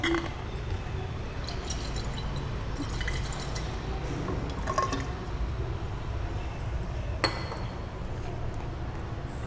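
Laboratory glassware being rinsed with water for a titration: faint trickling and sloshing liquid with occasional glassy clinks, one sharper clink near the end, under low background noise and some speech.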